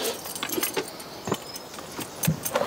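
A bunch of keys jangling and clinking at close range in a series of short metallic rattles, loud and alone with no talk over it.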